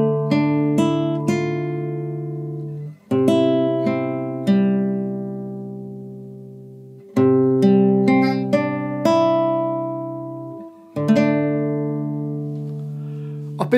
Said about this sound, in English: My guitar's in standard tuning, and the first line sounds like this.